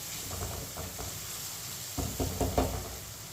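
Tomatoes fry in a pan for masoor dal, giving a soft steady sizzle broken by a few louder scraping stirs near the end, heard close and without any talk.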